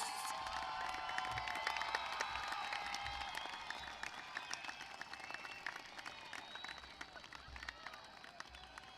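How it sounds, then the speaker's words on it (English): A large audience claps continuously at a 2023 graduation ceremony, a dense, sustained roar of applause that fades slightly toward the end. "Give them a round of applause."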